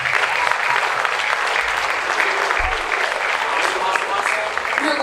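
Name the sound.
audience applause for school band students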